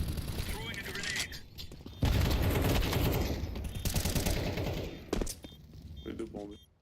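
Gunfire crackles in a video game match as a grenade and an incendiary are thrown, bursts of shots and mechanical clatter running under frequent talk.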